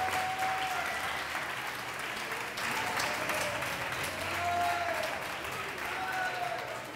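An audience at a CrossFit competition on Reunion Island claps steadily for a competitor, a dense, even round of applause lasting several seconds with no other sound standing out.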